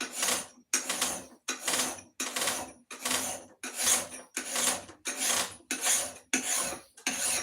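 Metal file rasping against a steel axe head to shape its edge angle, about ten loud evenly spaced strokes in a steady rhythm with short gaps between them.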